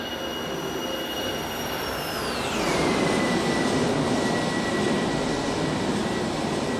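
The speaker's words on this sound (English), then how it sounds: "And here's another flyby." An iniBuilds Airbus A310 passes by in X-Plane 11 as a loud, steady simulated jet roar, with a whining engine tone that falls sharply in pitch midway through the pass. No one speaks.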